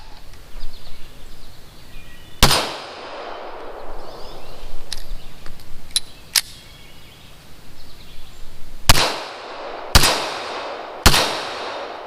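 Reloaded ammunition fired at an outdoor shooting range: a single loud shot, then three more sharp reports near the end with ringing decays, spaced apart over faint outdoor ambience.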